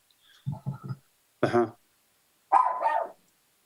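A dog barks indoors during a city council video call, a quick run of three short barks followed by two longer, louder single barks, close and alone in otherwise quiet surroundings.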